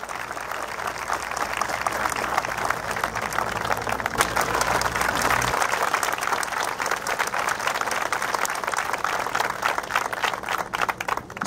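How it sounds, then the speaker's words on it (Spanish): An audience at a regional government swearing-in ceremony in Ica bursts into strong, sustained applause, a dense roar of many hands clapping continuously for several seconds without speech. "Para él también ese fuerte aplauso."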